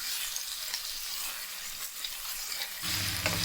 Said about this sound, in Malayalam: ഒന്ന് ഷാലോ ഫ്രൈ ചെയ്തെടുത്താൽ മതി. തിരിച്ച് മറിച്ചിട്ടൊന്ന് ഫ്രൈ എടുക്കാം.